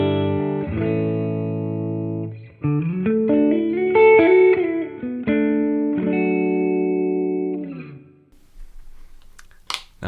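Clean electric guitar on the middle pickup position through a Tweed Twin amp preset plays a series of chords and single notes, ringing with a warm amp tone and sustained decay.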